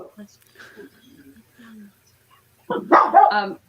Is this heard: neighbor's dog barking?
yes